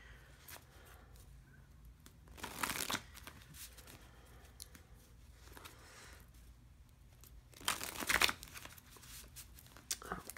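Cards from a personal word deck are cut by hand in two short, quiet riffling bursts several seconds apart, with near-silence between them.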